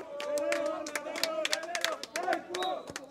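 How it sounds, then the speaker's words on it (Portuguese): A group of people cheer after a goal in a casual football match, with sharp, irregular claps over loud excited voices and chatter. "Vamos levantar, vamos aplaudir de pé"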